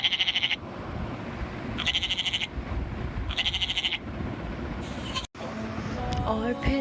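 Bleating from goats at an Eid livestock market comes in repeated bursts over a rumbling, busy crowd, followed by a short gap and a rising electronic tone near the end.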